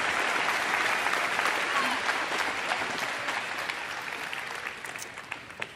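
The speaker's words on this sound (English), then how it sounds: "Give them a huge round of applause, please." A large audience claps and cheers at the Minecon 2013 opening ceremony, a dense, sustained round of applause that slowly tapers off.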